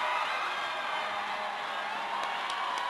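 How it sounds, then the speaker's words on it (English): A crowd at an ice hockey game at the Edge in Bensenville roars steadily and loudly after a late tying goal, a continuous wash of cheering that holds for several seconds. "And listen to this crowd here at the Edge in Bensenville."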